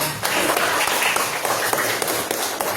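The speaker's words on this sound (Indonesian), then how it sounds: "Oke, tepuk tangan buat." Students in a school classroom clap together in a dense, steady burst of applause lasting a few seconds, close and fairly loud, with faint voices mixed in.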